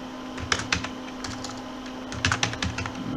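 Rapid clicking keystrokes on a computer keyboard, close and steady, with a few louder bursts of taps as words are entered into spreadsheet cells, and no voices.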